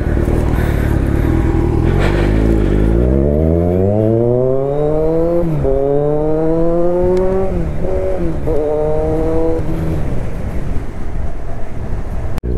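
A modified Kawasaki motorcycle engine revs hard, loud and close, its pitch climbing through repeated rising sweeps with brief drops between shifts, continuous throughout with no talking.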